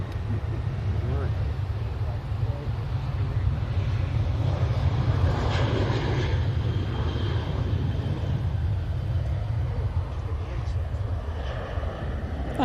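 An Etihad Boeing 777 airliner at Manchester Airport rumbles with a deep, steady engine roar, moderately loud and constant, mixed with wind buffeting on the microphone.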